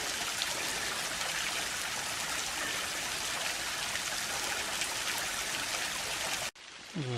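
A stream runs through a Tennessee nature preserve after heavy rain, a close, steady rush and trickle of water that holds constant before cutting off abruptly near the end.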